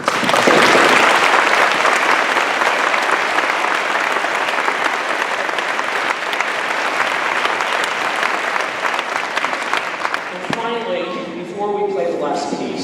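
Loud, sustained applause from a school band concert audience honoring middle school students, a dense steady wash of clapping that thins near the end as a few voices and scattered claps remain.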